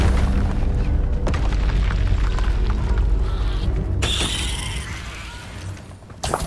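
Confringo fire spell in Hogwarts Legacy going off as a loud booming blast with dense low rumble, then a bright crackling burst near the end, fairly close.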